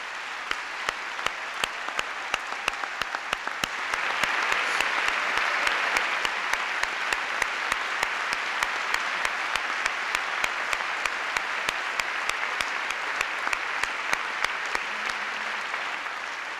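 An audience at the 1999 National Medal of Arts and Humanities awards ceremony claps steadily throughout, dense applause from a large crowd that swells in the middle and stays loud to the end.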